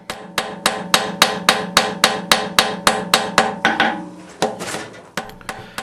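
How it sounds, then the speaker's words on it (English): Quick, light hammer blows forge welding a thin steel bundle for a butterfly hinge ring out as a close, even series of about fifteen sharp metallic strikes, slowing into a few final taps. "It's important to use very quick, light hammer blows when you're welding this thin material."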